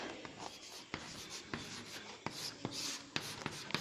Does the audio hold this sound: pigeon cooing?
no